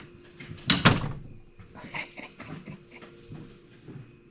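A newly fitted bedroom door in a tiny house converted from a shed swings shut with one sharp, close latch-and-thump, followed by quieter handling knocks and faint movement.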